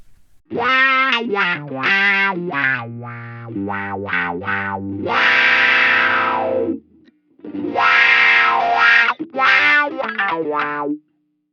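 Distorted electric guitar run through a wah effect placed in a Line 6 Helix effects loop, notes and bends sweeping with a nasal, vowel-like tone, loud and close with short pauses.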